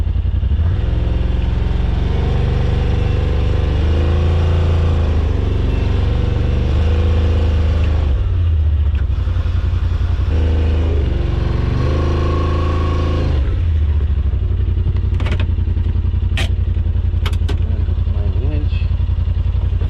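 Off-road vehicle engine revving in low-range crawl with the diff lock engaged on rough coastal terrain, loud rising and falling revs with clattering, then sharp knocks near the end, with people talking over it.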